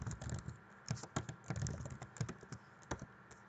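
Keys tapped on a computer keyboard while entering a password, a quick irregular patter of close clicks in short bursts with brief pauses between them, no voices.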